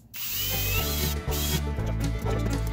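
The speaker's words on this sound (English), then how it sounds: "you want to drill these pilot holes here for your hinges" A power drill boring pilot holes for concealed cabinet door hinges whirs steadily, its pitch dipping briefly twice as the bit bites and restarts, close and fairly loud with no talking.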